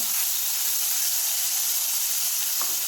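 Ginger, garlic and three green chillies sautéing in a pan, giving a loud, continuous, hissing sizzle that holds steady at close range, with one faint clink near the end.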